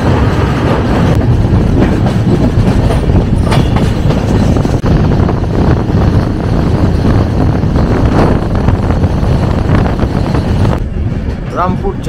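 Rajdhani Express train running, heard from inside a first AC coach: a steady, loud rumble with rhythmic clickety-clack of the wheels, continuous throughout, with faint voices in the background.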